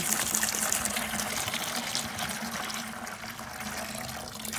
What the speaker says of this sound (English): Filled this up full of water. Go ahead and pour it in.